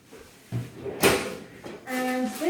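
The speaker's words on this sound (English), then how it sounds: "I'll just check the last drawer around here" A kitchen drawer slides open and shut with a sharp wooden knock near the middle, followed by a clattering rattle of contents at close range in a quiet room.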